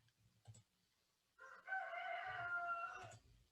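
A rooster crows once, a drawn-out cock-a-doodle-doo heard faintly at a distance, preceded by a few short clucks and soft background noises.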